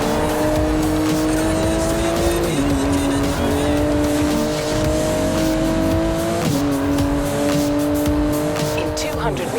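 A Porsche 911 GT2 in the video game Forza Horizon 4 roars loudly and steadily through city traffic, its engine note climbing through several gear changes, with tires squealing briefly.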